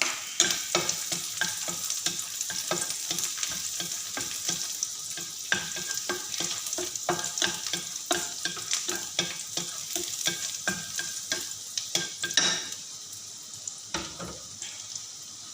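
Garlic frying in a little oil for mushroom fried rice crackles constantly while a utensil scrapes the pan in quick, busy strokes; the sizzle is close and fairly loud.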